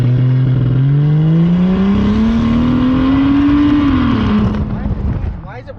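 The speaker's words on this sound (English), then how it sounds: "We need to do a drive-by," A loud, raspy straight-pipe exhaust on a 2007 Lincoln MKX drones past, breaking up, its pitch climbing steadily then dropping as it moves away, fading out at the end.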